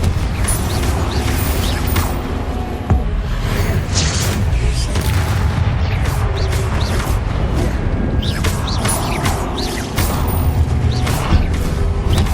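Confringo blasting spell from Hogwarts Legacy erupts in loud booming explosions and crashes, with layered impacts and debris rumbling continuously through the game's dense sound mix.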